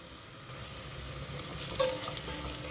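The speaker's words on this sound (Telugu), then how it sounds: "ఒకసారి కలిపేసి బాగా వేగనిస్తా" Onions frying in a pan with a little salt, given a stir as they cook for bagara rice: a steady close sizzle with a soft scrape of the spoon, no talk.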